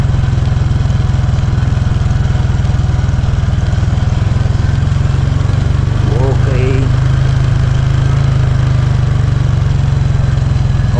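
A 17-year-old motorcycle engine runs with a steady, loud low drone and constant buzzing rumble throughout, while a person talks over it.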